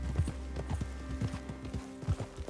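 Hooves clip-clop in a steady trotting rhythm as a horse moves along in the Red Dead Redemption 2 video game, with close, distinct beats and a faint whinny.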